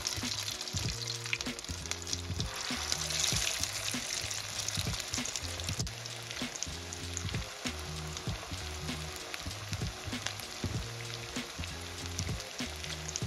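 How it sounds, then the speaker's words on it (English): Salmon cakes frying in hot oil in a skillet, a steady dense sizzle with fine crackling pops running continuously throughout, close and even, with no talking. "You want to make sure your oil is hot enough before you add the salmon cake."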